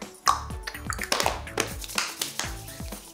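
Quick, uneven hand clapping from a parent and child playing a sound game, a rapid series of light, close claps and taps with no talking.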